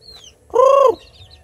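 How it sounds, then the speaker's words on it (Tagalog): A single loud call from a free-range hybrid chicken rings out nearby, a short drawn-out cluck, with faint bird chirps and quieter clucking around it. "Yan yung mga manok natin na naka free range, mga hybrid yan na manok"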